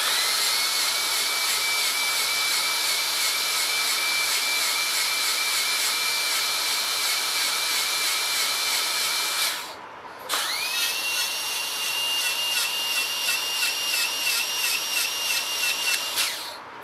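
A high-pitched dental rotary instrument whines steadily while finishing the excess from a Class IV composite restoration, stops briefly, then spins back up with a rising whine and runs on, close and loud.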